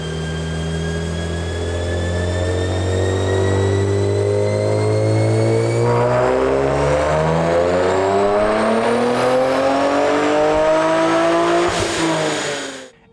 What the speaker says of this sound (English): So once we did our SOHO True Dual exhaust and everything else, we put it back on the dyno,